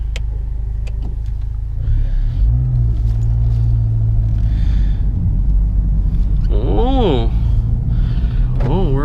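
A 2018 Honda Civic Type R rumbles from inside the cabin, then its engine note swells as the car pulls away, with people talking and brief mechanical chirps over the drone.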